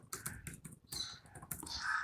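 Close computer keyboard taps are heard as a short burst of separate keystrokes, sharp and distinct against a quiet background, ending with a slightly louder press.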